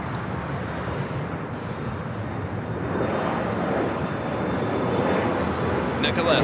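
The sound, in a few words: Japan Airlines Boeing 787-9 Dreamliner arriving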